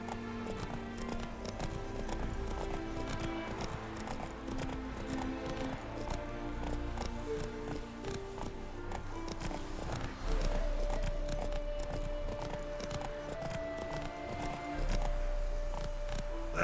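Roach the horse gallops in The Witcher 3, hooves clip-clopping in a steady rhythm under a layer of game music and ambience, with no speech.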